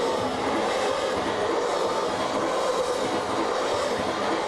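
A train rolls past in a steady, broad rumble with faint clickety-clack from the wheels, holding a constant loud level throughout with no voices.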